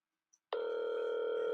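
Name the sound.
phone ringing while calling someone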